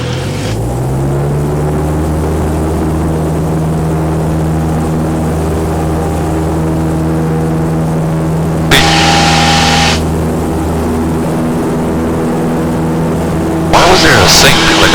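A small training aircraft's engine drones loud and steady at full power on the runway for takeoff, its tone rising early and then holding, with brief bursts of radio or cockpit noise breaking in twice.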